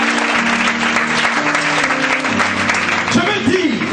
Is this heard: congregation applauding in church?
yes